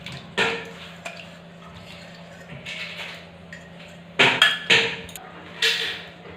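Boiled keora fruit is strained through a sieve, with sharp metallic clinks and taps of the sieve and utensils against a pot. The taps come scattered at first, then in a quick cluster.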